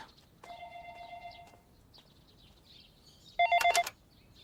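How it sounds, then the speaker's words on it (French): Telephone ringing in a room, two separate electronic ring bursts, the second louder and warbling, with no talk over them. "Je vais répondre au téléphone."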